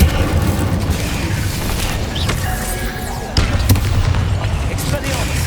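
Incendio fire spell cast in Hogwarts Legacy, a burst of booming magical impacts under a dense layer of battle effects and music, with a sharper hit midway and a shouted spell name heard over it.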